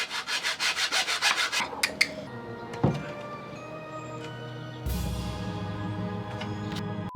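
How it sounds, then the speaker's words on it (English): A hand saw cuts through a wooden dowel used to plug holes in a thrifted cane cabinet, with a quick run of rhythmic, steady strokes up close, then a few scattered knocks and thumps followed by a dull, rustling handling noise. "So now we're gonna saw that and plug the holes."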